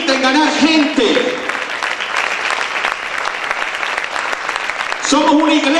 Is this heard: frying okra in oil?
no